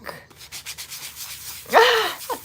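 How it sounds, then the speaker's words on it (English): Sanding an acrylic resin craft piece set with glitter, with a long soft rubbing texture and one louder, sharper rasping stroke toward the end. "Let's go ahead and sand this back."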